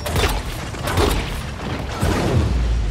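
Explosion in the video game Dying Light 2: a few deep booms and rumbling thuds with clattering debris, fairly loud and spread over a few seconds.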